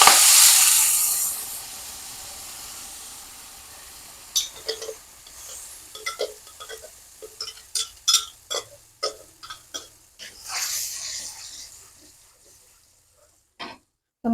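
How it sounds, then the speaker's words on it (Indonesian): Hot oil sizzles and pops while fish is sautéed in a wok that was not fully dry: a loud hiss first, then scattered sharp crackles and spits at irregular intervals, fading out. "Ini minyaknya agak meletup-letup teman-teman karena tadi wajannya nggak kering"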